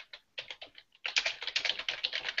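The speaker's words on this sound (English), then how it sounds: "That's a very loud micro-switch keyboard you have." Fast clacking keystrokes come from a loud micro-switch computer keyboard, close and crisp, first in a few sparse taps and then in a dense, steady burst of typing.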